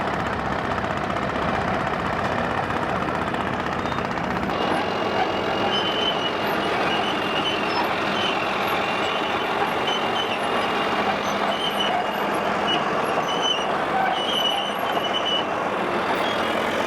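Caterpillar D9 bulldozer moving past at a machinery show near Ashburton, a steady diesel engine rumble with mechanical clatter, continuous and moderately loud with no talk.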